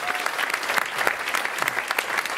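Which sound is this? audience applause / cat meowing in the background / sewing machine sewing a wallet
audience applause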